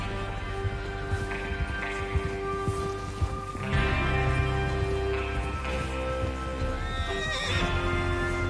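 Horse hooves clatter continuously with a neigh or whinny rising over a dense soundscape of music and ambience in the video game Red Dead Redemption 2.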